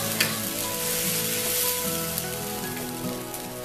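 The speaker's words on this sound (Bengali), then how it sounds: "এইবার এই তেলের মধ্যে পেঁয়াজ ও টমেটো পেস্ট করাটা দিয়ে দিলাম। এবার একটু কষে নেব।" Chopped onion and tomato paste fry in hot oil for a mixed vegetable dish, giving a steady, even sizzle that fills the whole clip with no talking.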